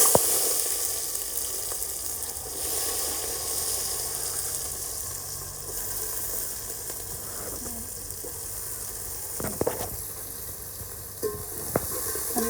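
Onions sauté in hot oil for mushroom biryani, a steady soft sizzle and hiss at moderate distance, with a few sharp clinks of a spoon against the pan toward the end.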